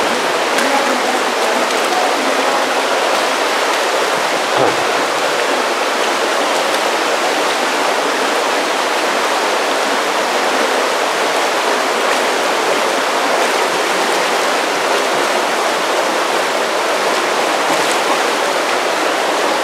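Pomme de Terre River rushing under a bridge with stone block work, a dense, loud, steady wash of flowing water that fills the scene without a break and with no voices.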